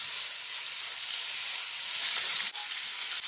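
Chopped green chillies and masala sizzle steadily in a hot pan for prawn biryani, a dense continuous hiss with a brief scrape of stirring near the end.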